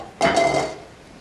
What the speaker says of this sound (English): clearing the dishes off the table